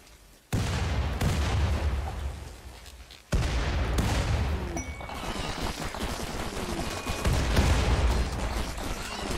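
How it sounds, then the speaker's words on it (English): Grenade explosions in the video game Rimworld, a few heavy booms with sharp onsets, loud and close, each followed by a long rumbling decay, with no talking. "start grenading now"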